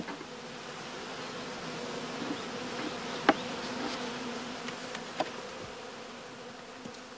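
Honeybees buzz in a dense, steady drone around beehive colonies, close and continuous, with occasional single bees whizzing past.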